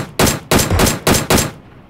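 Five loud, close gunshots in the PUBG battle royale game fire in quick succession at a steady rhythm, each a sharp blast with a brief tail, and no voices are heard over them.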